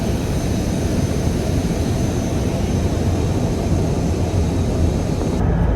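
A loud, constant low engine roar and broadband rumble fill the space without change, like the drone inside an airplane cabin in flight.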